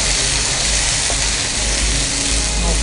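Curry leaves crackle in hot oil in a pan for a Guntur-style chicken fry, a steady dense sizzle holding close and loud throughout with no voices over it.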